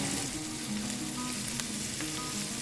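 Chopped garlic frying in a pan for a creamy Mediterranean cauliflower soup, a steady close sizzle with faint stirring, no voices.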